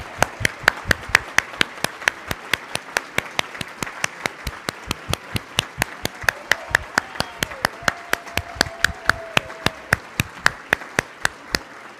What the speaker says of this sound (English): There's going to be a lot of applause as we go through